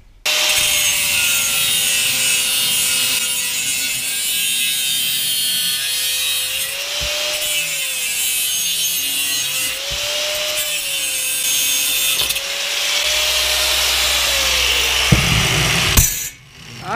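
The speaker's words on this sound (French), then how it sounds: "couper des morceaux à la disqueuse, c'est long et chiant" An angle grinder cuts metal pieces for a Citroën C15 roof rack, a loud, steady high-pitched grinding whine that runs almost continuously for the whole stretch, with slight pitch dips as the disc bites, and stops abruptly near the end.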